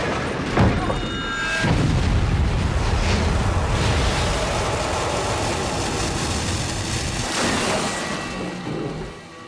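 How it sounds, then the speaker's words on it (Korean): Pressurized explosive gas blasts up a drill pipe after the drill strikes a gas layer about 180 m down, a loud, sustained roaring rush that stays dense and powerful before easing slightly at the end. "압력을 받은 가스가 파이프를 타고 올라왔다"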